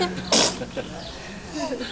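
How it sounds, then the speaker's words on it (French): A small child's quick, sharp sneeze bursts out near the start, with faint voices and background chatter around it, at a welcome ceremony for the year's babies in Nanteuil-lès-Meaux, France. "donc ça c'est la petite sœur qu'on entend éternuer là, c'est ça?"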